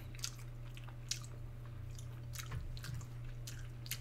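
Close, wet chewing of cow tripe and shiitake mushrooms, with soft squishy bites and small smacks repeating irregularly over a steady low hum, and no talking.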